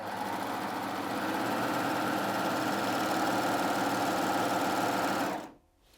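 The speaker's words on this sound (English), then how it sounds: "I'm just going to raise my foot and slip the fabric under and then go ahead and sew." A Baby Lock Aspire coverlock machine stitches through two layers of thick woven calico, running in a steady, close, continuous whir for about five seconds before stopping abruptly.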